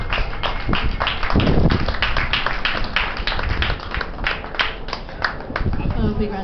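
Audience clapping at a live open mic night in a bar, a steady patter of hands with a loud burst near the start, and voices talking over it.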